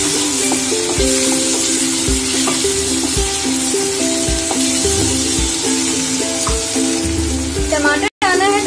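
Tomatoes hit a hot pan of oil for a dhaba-style egg curry, giving a loud, steady sizzle and frying hiss throughout, with soft utensil knocks and a brief stir near the end.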